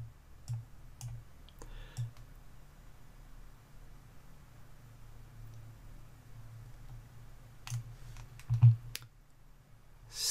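A computer mouse clicking while working in an Excel spreadsheet, a few sharp, quiet clicks scattered over a soft background hiss, with a small cluster of clicks near the end.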